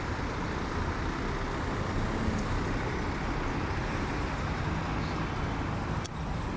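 Dense road traffic rumbles continuously outside a roadside vulcanizing shop, a steady broadband wash of cars, trucks and buses passing close by, with no talk.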